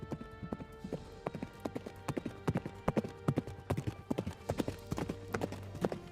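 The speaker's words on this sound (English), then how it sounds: "he heard the neighing of a horse and approaching hoofbeats." Steady clip-clop of horse hooves, a quick uneven rhythm of sharp knocks growing slightly louder, with faint background ambience.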